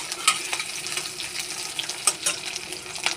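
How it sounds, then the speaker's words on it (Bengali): Sliced onions and chillies frying in hot oil in a wok-style kadai, spluttering and crackling steadily with sharp pops, close up, while being stirred, with no voices. "লাল হয়ে গেছে পেঁয়াজে, ছুটি পড়ছে, ওই জন্য আওয়াজটা হলো।"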